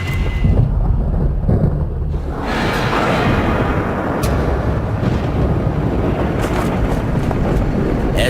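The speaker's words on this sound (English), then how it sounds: "As the evening shift arrives, so does a vicious storm." Thunder from a violent evening storm rolls over an oil field, a loud, continuous rumble with wind buffeting the microphone and no voices.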